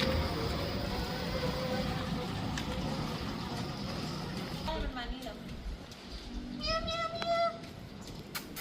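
A stray cat meows several times, short rising cries standing out after steady traffic rumble from trucks and cars fades, with people talking nearby in the street.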